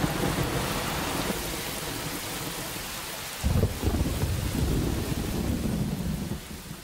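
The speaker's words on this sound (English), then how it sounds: "Just rain." Heavy northwest monsoon rain in tropical Borneo: a dense, steady roar of downpour hitting surfaces, with a louder surge partway through and a low thunder-like rumble underneath, no voices.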